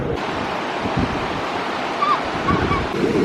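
Ocean surf rolls steadily at Folly Beach in South Carolina while wind buffets the microphone, making a constant loud rushing wash with small surges.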